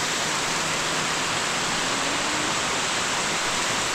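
Dunning Springs waterfall in Decorah, Iowa, roars as a loud, constant wash of falling water off a rock ledge, unbroken and close, with no voices.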